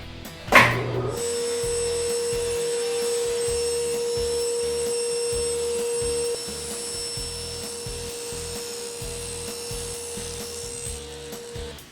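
A table saw cuts wood strips for a silverware organizer. A sharp knock opens the clip, then the blade settles into a steady, loud motor whine that dips slightly partway through and carries on alone.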